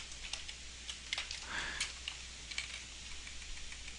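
Keys tap quickly on a computer keyboard in short, uneven bursts. The clicks are quiet and close, with a low steady hum underneath and no talking.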